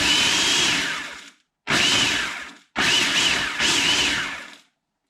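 Food processor pulsing chopped ingredients, four loud whirring motor bursts of about a second each, each cut off with a brief silence between, up close.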